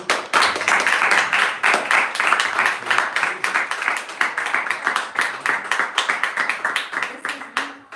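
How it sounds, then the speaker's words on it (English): A small gathering at a devotional Bhagavat reading claps for the organisers of a children's Bhakti school, with close, individually distinct handclaps forming a loose, uneven rhythm that thins out near the end. "big round of applause to Manohari Gopi and Sadbush Granga for the little school of Bhakti"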